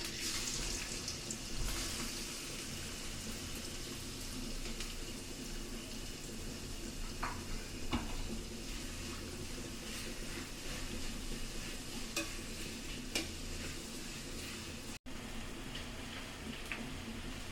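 Onions frying in oil in a pan for a small tuna and sea fish kosha curry, a steady close sizzle and crackle running throughout with occasional stirring scrapes and no voices.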